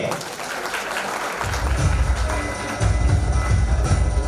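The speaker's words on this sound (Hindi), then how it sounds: "एक बार जोरदार तालियां उनके लिए।" Loud, sustained applause fills a hall at a community event in Mumbai as children are honoured, steady and crowd-wide, swelling louder partway through.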